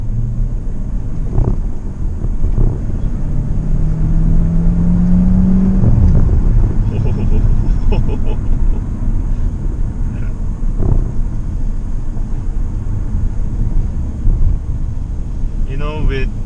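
A 2022 Chery Tiggo 8 Pro plug-in hybrid accelerates in sport mode, giving a steady interior road and wind rumble with a rising whine partway through as voices talk in the cabin.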